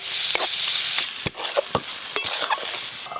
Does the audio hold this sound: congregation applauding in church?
no